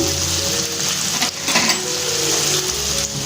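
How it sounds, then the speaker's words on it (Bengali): Onions fry in a pan with a loud, continuous close sizzle, broken by brief stirring scrapes and no voices. "পেঁয়াজগুলো একটু লাল করে ভেজে নিতে হবে।"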